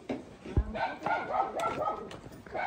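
Dogs barking and yipping on a mountain trail on Mt Kupapey, several short barks scattered over nearby outdoor chatter, with people talking throughout.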